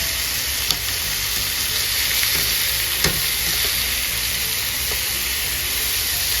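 Chicken breast frying in a pan, with a steady bright sizzle throughout and a couple of sharp pops or clinks near the start and middle.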